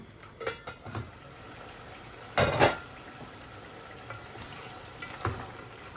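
Spice masala with mixed curry powder is stirred in a pan for Eid cooking, giving sparse clinks of a spoon against the pan and one louder scraping burst midway over a quiet background, with no talking.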